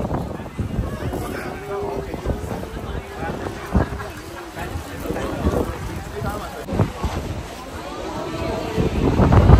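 Gusty wind buffeting the microphone in low rumbles and bursts, with people talking throughout amid busy outdoor noise at a cold family campsite.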